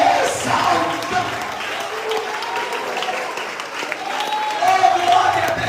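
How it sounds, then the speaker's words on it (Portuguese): A church congregation applauds steadily throughout, a dense wash of clapping with a few voices calling out over it. "Aplauda Jesus Cristo glorificando e exaltando."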